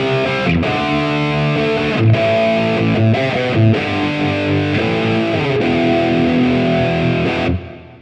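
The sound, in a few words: electric guitar with subtle dual delay doubling effect on Quad Cortex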